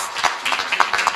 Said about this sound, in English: I would like us to welcome him with a round of applause.